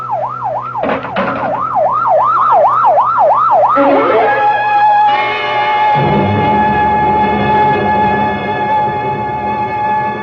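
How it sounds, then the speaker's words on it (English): Ambulance siren in an old CBS radio mystery drama, a wailing rising-and-falling tone arriving close and loud, then shifting to a steady high tone with a low engine rumble beneath. "better get that ambulance out here fast"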